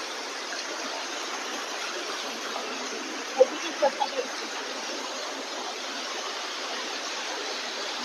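A waterfall at Gokarna runs full after rain, giving a steady broad rushing roar throughout, with a few faint knocks midway.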